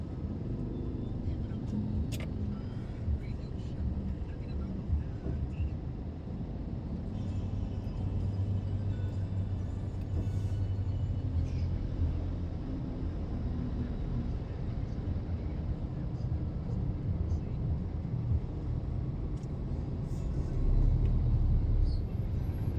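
Steady road traffic rumbles throughout, a dense low drone of car engines with occasional faint clinks and a louder surge near the end, with some background voices.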